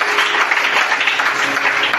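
Congregation in a French-speaking church service applauding, loud, sustained and dense clapping from many people filling the room, close and steady, with a faint tone underneath and no talk.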